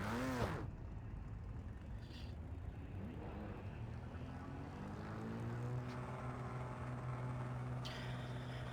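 Merrick LMP2 race car at Circuit de Barcelona-Catalunya in Project CARS 2, an engine that revs up and shifts through rising and falling tones several times, fairly quiet and steady throughout, with no talking.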